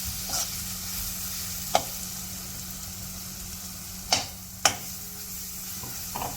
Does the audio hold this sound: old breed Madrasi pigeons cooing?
no